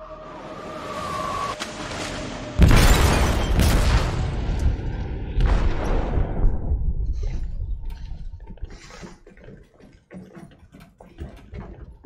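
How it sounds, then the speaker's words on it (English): An explosive goes off in a ship's hold in the game Detroit: Become Human: a sudden loud boom after a quieter lead-in, then a heavy churning rumble that slowly fades, leaving scattered faint knocks and splashes. "They detonated an explosive in the hold."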